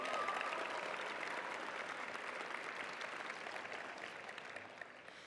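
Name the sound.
audience applause at graduation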